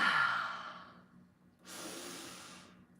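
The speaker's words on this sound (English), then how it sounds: "Let's do a couple of those breaths together." Deep breathing during a stretching and wellness routine: a long audible exhale tapering off, a short pause, then a drawn-in airy breath, close and fairly quiet.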